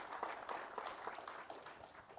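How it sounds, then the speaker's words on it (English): Audience applause at a telecom industry members' meeting opening plenary, a faint, steady clatter of many hands clapping heard from a distance with no voices. "hats off, and big applause to you guys."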